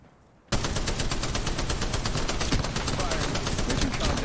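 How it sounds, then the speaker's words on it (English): Rapid automatic gunfire from Apex Legends Mobile erupts after a brief quiet start and continues as a dense, loud, unbroken volley of shots. "Shots fired and they're hitting me."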